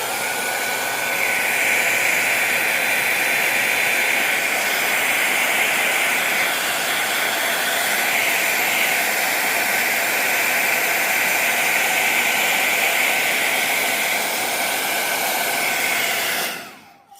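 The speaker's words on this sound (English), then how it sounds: "Now if I want it to speed up my cracking, I can hit it with the blow dryer." A blow dryer roars loud and steady at close range for most of the stretch, a constant rushing whoosh with a faint whine, used to speed crackling in a paint finish, then cuts off abruptly at the end.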